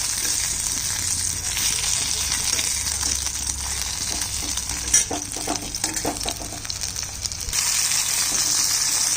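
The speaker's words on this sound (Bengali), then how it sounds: "ধীরে ধীরে ভাজতে হবে, নাহলে ভেতরে চিংড়ি মাছটা কাঁচা থাকবে।" Shrimp fritters wrapped in bottle gourd leaves fry in hot oil with a continuous loud sizzle, plus scattered spatters and a few utensil clinks midway.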